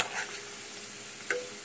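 Potato-paneer samosas deep-fry in hot oil, giving a soft, steady sizzling hiss that stays faint and even. A single small click sounds near the end, and no one talks.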